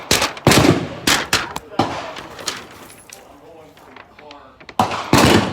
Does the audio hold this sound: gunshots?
yes